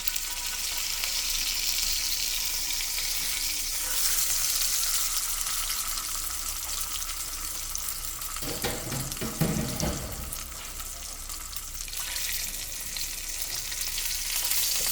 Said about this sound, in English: I'm going to sear the edges